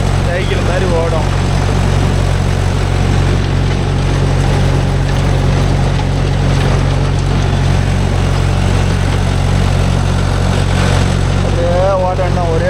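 A Mahindra 415 DI tractor runs a 36-blade rotavator in farmland, giving a loud, steady diesel drone with a constant low rumble throughout, and brief speech over it.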